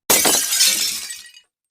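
A single burst of glass shattering, loud and close, with bright crashing fragments that tinkle and fade over about a second, alone with no talk.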